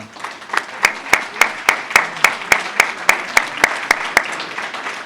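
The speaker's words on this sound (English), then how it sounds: "give a round of applause for our commercial lenders" Clapping at a chamber of commerce small business awards event comes as a steady, evenly spaced run of sharp claps, about four per second, lasting several seconds with no talking over it.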